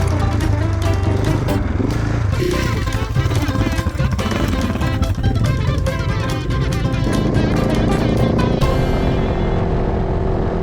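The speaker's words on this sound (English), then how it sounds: "Hard enduro adventure bikes back." Hard enduro adventure motorcycles riding on the road to Finke, a loud, rough engine roar close by with rattling, bumpy clatter throughout and a steadier drone toward the end.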